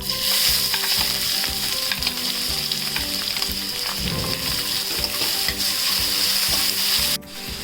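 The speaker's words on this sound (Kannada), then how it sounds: "ಈಗ ನೀರುಳ್ಳಿ ಸೇರಿಸ್ತಾ ಇದ್ದೇನೆ" Chopped onions fry in a pan with tempered spices and curry leaves for vegetable upma, giving a loud, steady sizzle with occasional stirring scrapes throughout and no voices.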